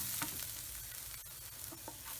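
Crushed chili sizzles and fries in a pan for a Kerala plantain stir-fry, with a steady close hiss and a few faint stirring scrapes.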